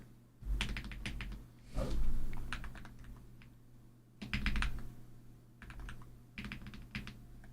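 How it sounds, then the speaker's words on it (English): Typing on a modded Wooting 60HE mechanical keyboard resting on a pad, bursts of quick clacking keystrokes separated by short pauses, close and clear with no talking. "Let me just do a little typing here."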